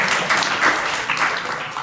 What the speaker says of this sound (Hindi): तो ताली बजाओ ना अपने ऊपर